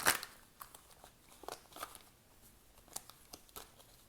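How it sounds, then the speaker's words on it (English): Tarot cards being shuffled by hand at a tarot reading, giving quiet, irregular riffling and crinkling bursts with one sharper rustle at the start, close and faint, with no talking. "these cards are being hard to shuffle"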